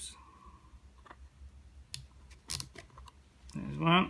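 Plastic zip ties are ratcheted tight on DIY water floats for a Mavic Pro drone, giving scattered sharp clicks and a quick rasping zip at the end, close and quiet.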